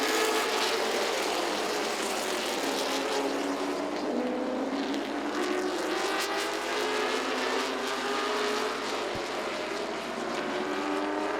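Late model race cars roar steadily around the oval at Southside Speedway, engines droning loud and continuous with rising and falling pitch as the pack passes, no voices over them.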